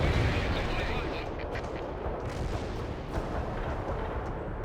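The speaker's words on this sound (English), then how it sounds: "I have incoming artillery fire on all my positions" Artillery fire in World in Conflict comes as a dense, rumbling barrage of distant booms and heavy impacts under continuous battle noise, with faint radio voices speaking over it.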